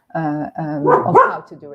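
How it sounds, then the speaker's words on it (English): A dog barks in the background during an online lecture on 3D modelling and reconstruction. It is short and close to the speech level, and it is partly masked by a person talking over it. "sorry about the barking."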